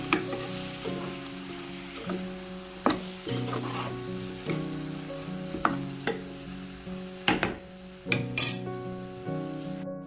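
Dry potato bhaji being stirred as it fries in a pan, a soft sizzle under repeated metallic clinks and scrapes of the spoon against the pan, some leaving a brief ringing tone.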